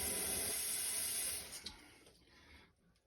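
Water runs steadily into a pot on a kitchen stove, a continuous splashing pour for pickling brine that cuts off and fades after about a second and a half, with no talk.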